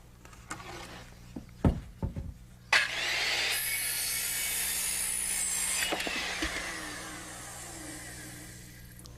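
A power saw is set to 18.5 degrees and rips through wood on a framing job, heard after a few knocks and clunks as a loud, steady whine lasting several seconds before winding down.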